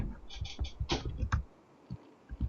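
Quick bursts of clicking keys on a computer keyboard while typing a message into game chat, close and fairly quiet, with a few scattered taps trailing off afterward.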